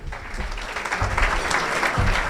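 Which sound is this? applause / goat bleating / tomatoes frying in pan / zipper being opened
applause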